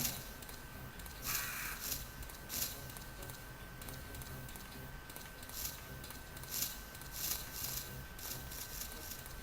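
Crows caw several times in a Resident Evil 2 game scene, short harsh calls scattered across a steady background ambience, moderately close and fairly loud, with no talking.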